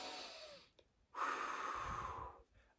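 A slow, deep breath, a long soft inhale followed by a fuller, airy exhale close to the microphone, quiet and with nothing else in the background.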